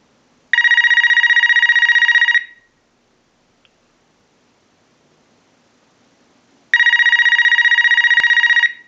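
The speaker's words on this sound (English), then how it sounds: "use the analyzer and send a ring cycle like you were getting a call" An AT&T 5450 cordless telephone rings in two loud electronic bursts triggered by a line analyzer ring cycle, separated by several seconds of near silence.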